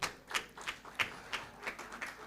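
Scattered, sparse handclaps from an audience at a corporate breakfast in Uganda, about seven distinct claps at an uneven rhythm, fairly faint and with no talk over them.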